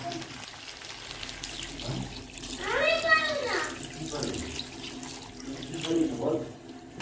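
Water splashes and pours from a tap into a pan of egg and potato curry, a short gushing burst amid kitchen noise, with someone talking over it.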